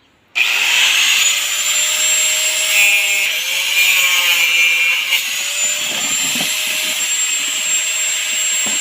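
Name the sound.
grinder cutting plastic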